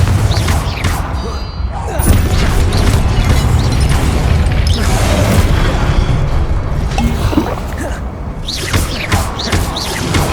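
Repeated loud explosive booms and crashing debris from a blasting fire spell in Hogwarts Legacy, smashing statues in a dense, almost continuous barrage with a quieter gap near the end.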